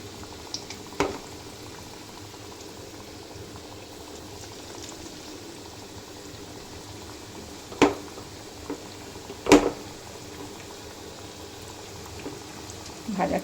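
Thekua deep-frying in mildly hot oil, a steady soft bubbling that runs quietly throughout, broken by a few sharper pops and crackles near the end.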